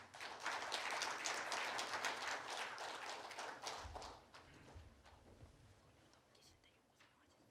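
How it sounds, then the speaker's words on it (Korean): Audience applause at a conference hall for the 100th anniversary of the Uiyeoldan, a broad wash of clapping that swells, holds, then thins to scattered claps and footsteps. "참가자분들께서는 박수로 환영해 주시기 바랍니다"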